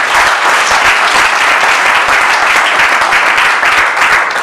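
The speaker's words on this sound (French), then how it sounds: "Applaudissons les champions." Wedding guests at an official marriage celebration break into loud, dense applause, a continuous close roar of many clapping hands sustained evenly throughout.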